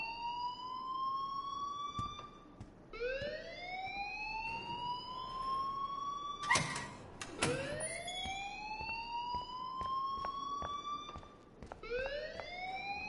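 An alarm blares in the Life is Strange video game, a rising wailing tone that repeats in long sweeps, steady and fairly close, with a few sharp knocks partway through.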